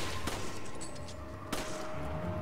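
Pistol shots ring out in the co-op video game Resident Evil 5, two sharp reports about a second apart over a busy background of game ambience.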